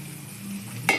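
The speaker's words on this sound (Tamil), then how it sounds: "இதை முட்டையோட மிக்சிங்கும் இதில் ஊற்றிட்டு" Egg and pasta mixture poured into hot oil in a kadai, giving a steady low frying sizzle with light stirring, then a brief louder splash and hiss near the end.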